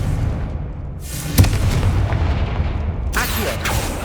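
Confringo fire spell cast in Hogwarts Legacy near a sarcophagus: a sharp blast at about a second and a half over steady loud ambience, followed by a second bright whooshing burst near the end.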